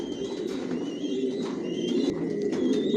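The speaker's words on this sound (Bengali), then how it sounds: "টপ কোয়ালিটির কবুতর পালি" Racing pigeons, including Tiger Grizzle racers, coo in a loft, a soft steady low warbling from several birds close by, with faint higher chirps over it.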